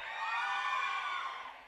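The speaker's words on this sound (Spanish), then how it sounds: "El grito de las mujeres." Women in a nightclub crowd at an electronic DJ set scream together in a loud, sustained, high-pitched roar that swells and then fades slightly at the end.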